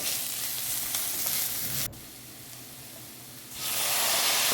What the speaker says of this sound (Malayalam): കുറച്ച് കറിവേപ്പിലയും ചേർത്ത് നന്നായി വഴറ്റിയെടുക്കുക